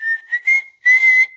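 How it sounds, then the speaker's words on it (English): A character whistles in the Monster House video game: a short, clear, steady tone broken into a few brief notes, breathy and close. "I can whistle."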